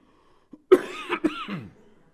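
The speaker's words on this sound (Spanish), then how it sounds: "Esta, esta tos no se me puede ir todavía." A single person coughs a few times in a short, raspy burst, close and clear against a quiet background.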